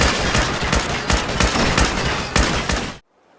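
Rapid gunfire destroying robots in Fallout 4, a loud continuous stream of close shots in quick bursts that cuts off abruptly into silence.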